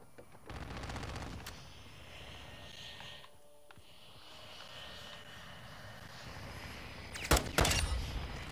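Modern Warfare 2 gameplay gunfire comes as a rapid burst early on and a louder, sharper volley near the end, over a low background rumble.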